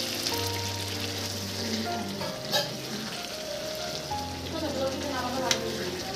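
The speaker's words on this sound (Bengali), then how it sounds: "এবার মাংসটার মধ্যে আমি ঝোলটা দিয়ে দেবো" Gravy goes into browned meat sizzling in a pan, a soft steady frying hiss with a few brief spattering pops and light stirring scrapes, fairly quiet, a voice faintly present.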